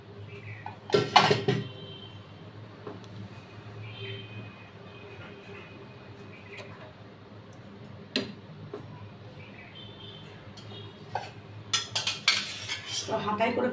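Rice ladled out of a pot, metal utensils clinking and scraping against dishes in scattered bursts, louder clatter near the start and end over a low steady background hum.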